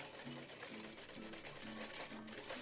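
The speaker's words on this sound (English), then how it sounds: "making sure again we agitate it or whisk it enough that it incorporates that oil." Oil is whisked into a Caesar salad dressing in a bowl, a quiet, rapid, rhythmic scraping and swishing of a whisk, repeating strokes about twice per second, close by with no talking.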